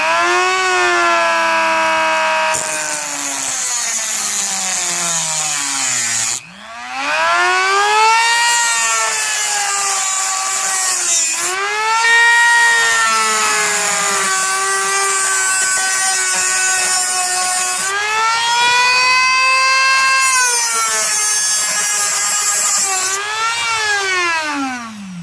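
A rotary power tool whines loudly as it cuts a NASCAR diecast model car, its pitch rising and falling through long sustained passes with a brief dip midway, and no talking over it.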